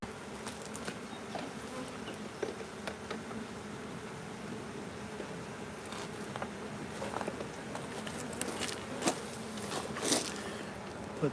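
Honey bees swarm around an open hive during maintenance with a steady, close buzz. Soft bumps and scrapes of boxes being handled break through, growing more frequent toward the end, and no one speaks.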